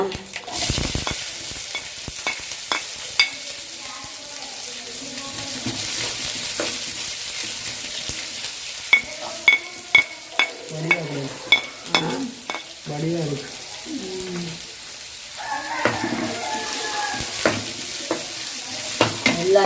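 Fennel seeds and spices frying in hot oil for a Jaffna-style home dish, a steady close sizzle with stirring scrapes and sharp clinks of a spoon against the pan, now and then under faint voices.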